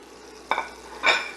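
Two tablespoons of unsalted butter dropped into a cast iron skillet heating on medium-low, giving two short, close sizzling bursts about half a second apart over a quiet background.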